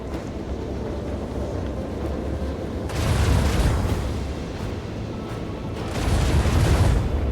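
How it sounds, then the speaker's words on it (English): Torpedoes launching from a ship in the space game Rogue Trader, two loud rumbling whooshes about three seconds apart over a low steady engine drone. "There go our torpedoes."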